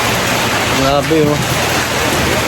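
Heavy rain growing stronger falls in a dense, steady hiss close by, loud and continuous, while a voice briefly exclaims over it.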